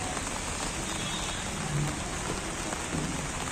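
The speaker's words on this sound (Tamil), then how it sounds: "சரி மழை பெஞ்சிட்டு இருக்கு" Steady rain falls at Mangalore Central railway station, a dense, even hiss of drops on surfaces that continues without pause throughout.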